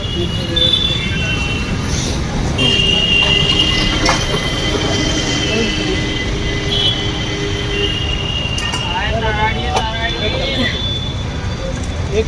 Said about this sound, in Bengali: চলে এসেছি গোবিন্দপুরি মেট্রো স্টেশন